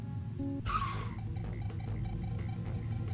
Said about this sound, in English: Driver frantically pushes the brakes, halting the screeching carcass of his car